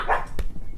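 Pet dogs bark at a package just delivered by the mailman: two quick, close barks, the first a higher yip and the second a sharper, deeper woof, in a brief burst.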